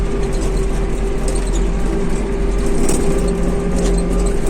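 An Iseki 48 tractor engine runs steadily while pulling a heavy 2.7 m cultivator through a garden at night, a loud continuous diesel drone with a deep low rumble and no voices.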